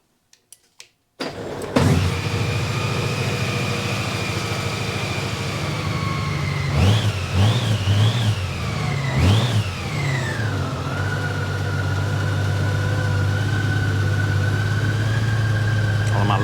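A Honda Goldwing motorcycle engine cranks and starts after a few clicks, then settles into a steady idle, with several sharp revs rising and falling midway before returning to a smooth, loud, close idle.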